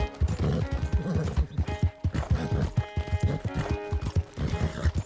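Horse hooves clip-clop in a rapid, steady rhythm while riding in Red Dead Redemption 2, close and fairly loud, with occasional snorts and a brief whinny over game music.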